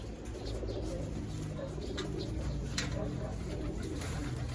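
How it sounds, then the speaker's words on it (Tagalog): Pigeons released from crates at a Batangas loft, with soft cooing and bird calls over a steady outdoor wash of noise and a few sharp flutters, while people talk nearby. "Ang dami mga kalapatids."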